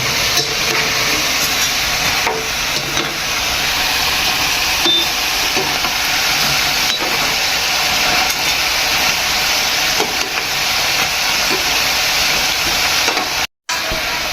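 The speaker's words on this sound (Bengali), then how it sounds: "পিঠাগুলো লাল লাল হয়ে গেছে তেলে ভাজছে" Pitha frying in oil, filling the clip with a loud, continuous hiss and sizzle with occasional faint clinks and a brief drop-out near the end, and no voices over it.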